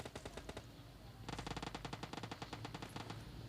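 Rapid automatic gunfire in the PUBG battle royale game crackles in two fast bursts, a shorter one followed after a brief gap by a longer sustained string of evenly spaced shots, fairly quiet and without talk.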